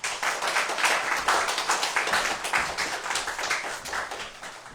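Congregation clapping during a Sunday church service, a steady fast patter of many hands applauding together, moderately near, fading slightly at the end.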